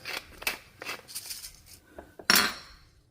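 A pepper grinder cracking black pepper for a homemade fish sandwich sauce, a few short dry grinding bursts in quick succession, close and fairly quiet.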